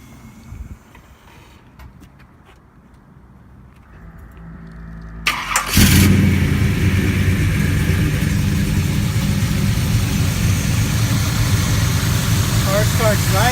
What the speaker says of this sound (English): now we will start the motor, so you can listen to that